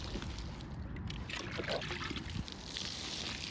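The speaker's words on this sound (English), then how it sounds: "this is rainwater I'm wetting them with" Rainwater trickles and splashes as it is poured over sweet pepper plants in a steady, soft, close stream with faint background noise.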